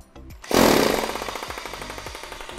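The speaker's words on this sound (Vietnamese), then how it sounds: "Chức năng khoan búa mạnh nè." A Bosch hammer drill in strong hammer mode starts up sharply into a loud, rapid, pounding rattle. It then settles into a steady rhythmic hammering close by, with no talking.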